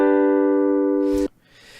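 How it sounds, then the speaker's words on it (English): An electric piano struck hard gives one loud, sustained note with a bright, edgy, slightly overdriven tone, held for over a second before being cut off abruptly, then only faint noise. "as you make the velocity harder, you actually get an edgier tone, a kind of an overdrive to it"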